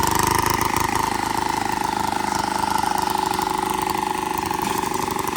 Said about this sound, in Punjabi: ਮਸ਼ੀਨ ਹੋ ਗਈ ਸਟਾਰਟ